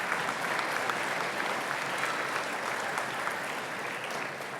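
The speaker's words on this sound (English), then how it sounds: "Please give him a big round of applause." A banquet-hall audience at a chamber of commerce annual dinner applauds steadily, a dense, even wash of clapping that holds at full strength for several seconds before easing slightly at the end.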